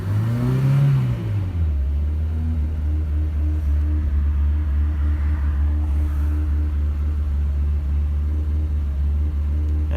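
An old Toyota KE30 Corolla engine, running rough after years unstarted, idles with a deep, uneven rumble after a brief rev at the start, running steadily and loud throughout without any talking.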